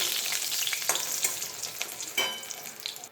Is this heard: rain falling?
no